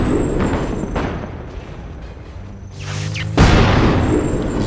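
Cannon blast in the video game Guild Wars 2, one deep heavy boom about three seconds in, rising above ongoing rumbling game noise and earlier thuds, loud and close.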